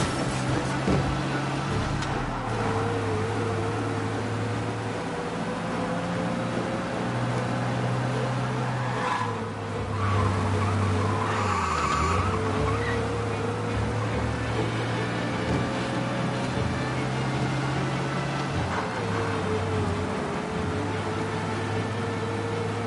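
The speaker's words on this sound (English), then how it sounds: "We lose them by driving real fast and getting clear of them." Car engine in a video game police chase, droning steadily and shifting pitch as it speeds along, with brief scraping skid noises partway through.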